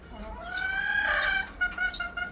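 Naked neck chickens on a farm give repeated, close clucking calls, with one steady, drawn-out vocalization and shorter calls near the end over faint background noise.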